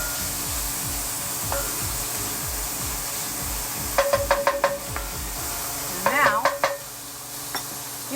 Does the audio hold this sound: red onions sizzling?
yes